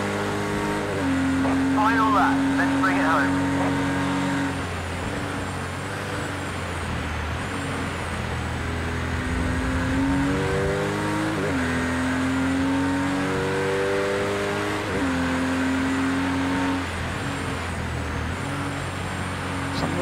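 A GT4 race car engine in Project CARS 2 drones loud and close through laps. It holds steady tones, with clear pitch drops and climbs at gear changes and corners, over a constant rumble of road and track noise.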